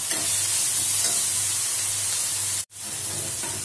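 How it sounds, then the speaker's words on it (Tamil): Tomatoes sautéing in a hot pan for Kerala-style black chickpea curry give a loud, steady sizzle and crackle that runs unbroken apart from one brief dropout near the end, with no talk. "தக்காளி நல்லா வதங்கியாச்சு."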